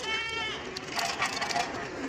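Goats bleat on a village farm, a few wavering calls close by over a steady outdoor background, with no one speaking.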